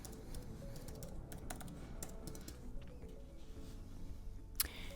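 Typing on a computer keyboard, a quick run of light, close key clicks in an irregular rhythm, faint and alone, with one sharper click near the end.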